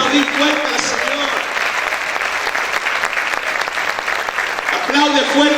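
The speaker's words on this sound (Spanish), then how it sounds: "¿Cuántos pueden aplaudir fuerte al Señor?" A church congregation claps loudly in a dense, continuous patter, with a voice speaking over the clapping at the start and again at the end.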